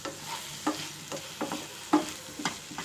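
Salt being stirred into a pan of aloo methi curry made with potato and fenugreek, a steady low sizzle broken by repeated scraping strokes of a spoon against the pan, close up with no speech.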